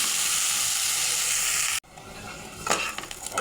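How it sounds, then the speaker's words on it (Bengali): Rice grains sizzling and being stirred in a hot pan while frying for a home-style chicken biryani, a steady close frying hiss broken by a brief pause, then scraping stirs and sizzle resuming. "চালটা একটু ভালো করে ভেজে নেব।"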